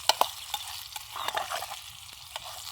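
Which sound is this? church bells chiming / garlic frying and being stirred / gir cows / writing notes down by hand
garlic frying and being stirred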